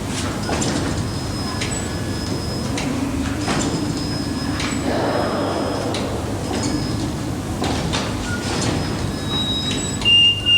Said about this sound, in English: the doors gently nudge closed, controlled by an infrared beam